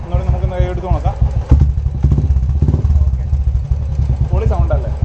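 A Royal Enfield Bullet motorcycle fitted with an aftermarket performance exhaust revs close up with a deep, bassy, thumping note that rises and settles. Voices talk over and around the engine.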